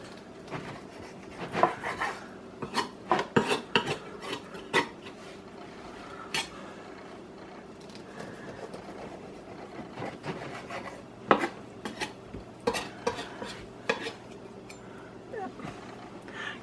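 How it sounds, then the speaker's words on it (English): A knife cuts homemade chicken seitan into pieces, giving irregular scraping and tapping strokes against a board amid soft kitchen clatter. "I'm going to cut it up now."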